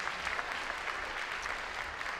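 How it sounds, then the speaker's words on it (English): Audience applause fills a robotics competition hall, a steady, dense wash of clapping from a large crowd, continuous and fairly even in level throughout. "Let's give them a round of applause."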